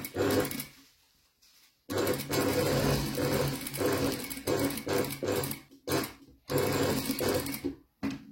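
An industrial sewing machine stitching flat pleats in fabric, a close, loud mechanical whir running in several long bursts separated by short pauses, with no talking.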